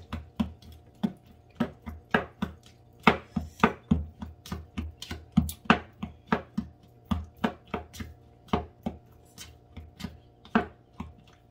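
A knife chops strawberries on a cutting board in a steady run of sharp, close knocks, roughly two or three per second with slight unevenness, over a low constant hum and no talking.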